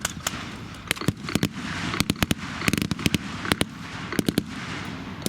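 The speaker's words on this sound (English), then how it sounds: "He turns his guns to fire on the American vehicle." Sharp bursts of tank gunfire from a Vietnam War battle scene, with a rapid series of loud cracking shots spread irregularly over a dense, rumbling background.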